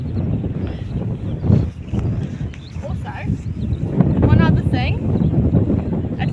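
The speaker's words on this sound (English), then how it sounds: "you can hear me talking over this wind" Wind gusts buffet the microphone on a road walk beside a horse, a steady low rumble throughout with someone talking over it.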